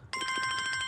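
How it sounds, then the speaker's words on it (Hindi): A telephone rings with a steady electronic tone, starting abruptly after a brief pause and continuing loud and close, with no talking over it. "मेरे मंगेतर दा फोन है।"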